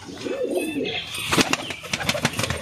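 Big-sized Giribaz pigeons, male and female kept together, give soft, low rolling coos up close, followed by a few sharper scuffling and fluttering sounds.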